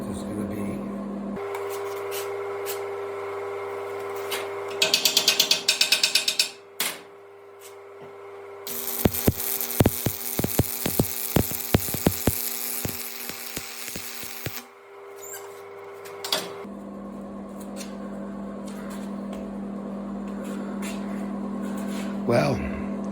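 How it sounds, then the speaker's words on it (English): A weld is ground off one side of a farm equipment disc during a repair, in harsh broadband bursts that start and stop, the longest several seconds of rough grinding with scraping ticks, heard up close. "Then I'll have to grind this side off too, because this is where my splint is going to be."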